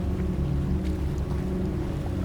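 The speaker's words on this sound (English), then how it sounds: "The ferry moves into open water." Ferry engine and hull rumbling through open water, a dense continuous low drone with steady wash noise, close and even, no voices.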